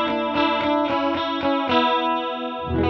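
Electric guitar played through a Fender digital chorus effects pedal, a few strummed chords ringing with a shimmering, doubled modulated tone, loud and close with no talking.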